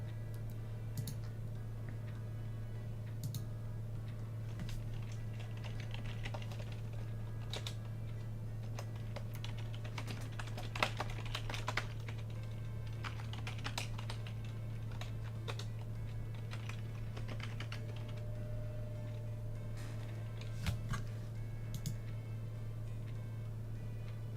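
Rapid clicking of keys on a computer keyboard, typed in short irregular bursts close to the microphone, over a steady low electrical hum.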